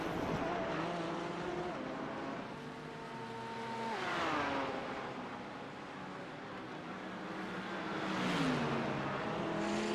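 A McLaren and a Porsche race side by side in a video game at Long Beach, engines droning and revving up and down through gear changes, loud and continuous with harmonic whine.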